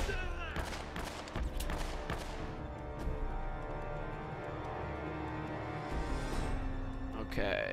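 Rapid bursts of automatic gunfire and scattered shots from a firefight in Uncharted: Drake's Fortune, dense and loud at first, then thinning into intermittent cracks under steady game ambience, with a voice talking over it.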